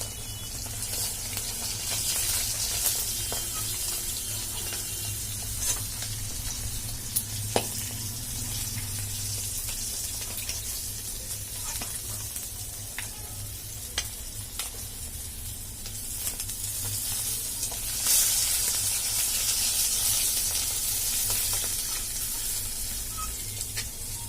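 Pabda fish frying in oil in a pan, a constant broad hiss of sizzling with scattered crackles and sharp pops, close by and unbroken for the whole stretch, with nobody speaking.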